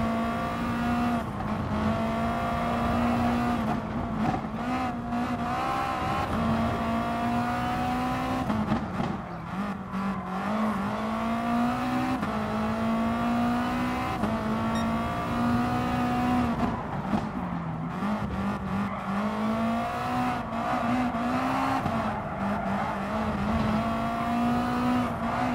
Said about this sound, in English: A lot of throttle flipping right there.